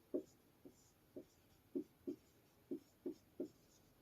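Writing the name copper pyrite on a board, heard as eight short, faint scratchy strokes spaced irregularly across a few seconds in a quiet room, with no voices.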